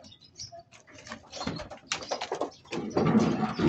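Racing pigeons in a loft give soft, low coos and rustle about, close and fairly quiet, with light tapping and shuffling around them.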